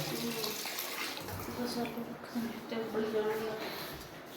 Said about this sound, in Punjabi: ਹੁਣ ਧੋ ਕੇ ਬਾੜਨੀ ਹੈ ਇਹ ਆਲੂ ਵੀ ਬਾੜਨੇ ਆ